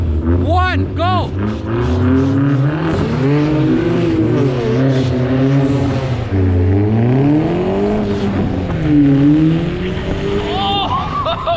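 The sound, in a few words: drag race between Hyundai Genesis, BMW and Corolla in snow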